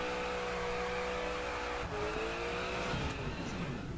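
Maserati Granturismo S track car in The Crew driving hard, its engine droning loudly and steadily, then shifting pitch midway as gears change, with a faint tire squeal and no talk.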